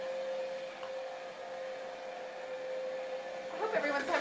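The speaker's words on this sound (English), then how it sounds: "if you hear that, it's because he's still blow drying the front of it" A hair dryer blowing steadily nearby in a house during a paint-finishing job, a continuous whooshing roar with a steady whine that holds level throughout, with a voice rising briefly near the end.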